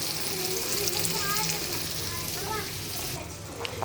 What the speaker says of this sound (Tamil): கத்திரிக்காய் சூப்பராக வதங்கிச்சுங்க பாருங்கள்